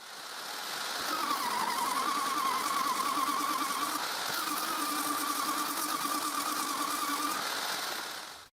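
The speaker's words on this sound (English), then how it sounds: "I also use the disc sander to sand the surface of all 15 posts" A disc sander working the surface of wooden bridge posts, a steady, close, whirring drone with a fixed hum held evenly for several seconds before cutting off.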